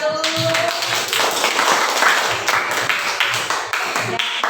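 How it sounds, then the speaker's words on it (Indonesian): Classroom of schoolchildren clapping for a student discussion group, a scattered, uneven patter of small hands that holds steady, with a teacher's voice and children's chatter mixed in. "kita kasih tepuk tangan dulu buat kelompok 1"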